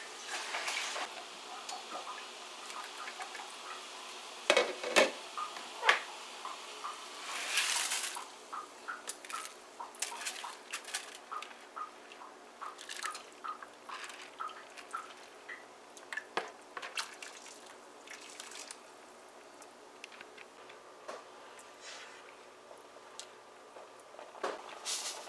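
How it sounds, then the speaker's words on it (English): Rice being rinsed in water while cooking Guyanese raisin rice, with soft drips, trickles and light patter of water and grains against a bowl, fairly quiet and close, with no one talking. "So we're going to wash our rice now and add it here."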